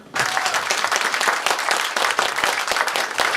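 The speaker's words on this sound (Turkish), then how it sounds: "Alkışlar." Audience applause at a concert, a dense, steady wash of many hands clapping that starts abruptly and holds loud and full throughout, with scattered sharper claps and a few cheers.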